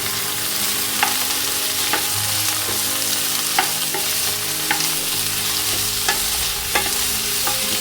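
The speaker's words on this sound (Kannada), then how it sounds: "ಚೆನ್ನಾಗಿ ಫ್ರೈ ಮಾಡಬೇಕು." Ivy gourd frying with onions in a pan, a loud, steady sizzle close by, punctuated by regular spatula scrapes and taps roughly every second as it is stirred.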